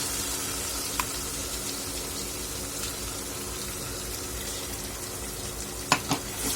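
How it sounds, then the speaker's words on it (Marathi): Tomato and onion paste with turmeric and spices frying in oil for a dhaba-style rajma chole curry, giving a steady low sizzle with a couple of faint utensil taps near the end, no voices. "छान आपण तेलामध्ये परतून घेणार आहोत"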